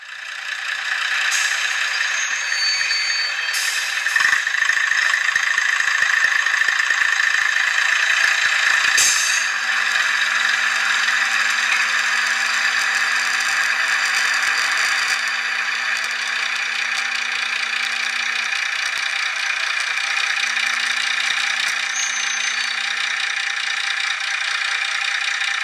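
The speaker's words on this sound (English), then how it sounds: "If we set the loco in motion, we can hear the engine note change." A Class 128 diesel engine sound from a DCC sound decoder in a model locomotive, a steady droning engine note with rattling texture and a few brief clicks, continuous and fairly loud with no talk.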